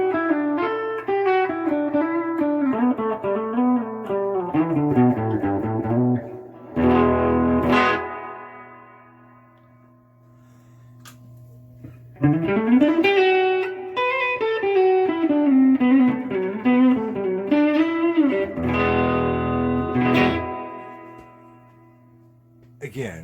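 An electric guitar plays through a Gibson GA-15 RVT Explorer amp with reverb set to 3 and gain at 7, giving a distorted tone with a reverb wash. Two sliding melodic phrases are each broken by a burst of strummed chords.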